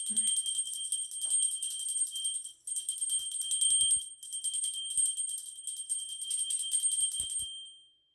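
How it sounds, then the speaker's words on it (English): High, bright bells ring in rapid repeated strikes, loud and close, with two brief pauses before the ringing fades out. "if you don't like the sound of bells, cover your ears for a second"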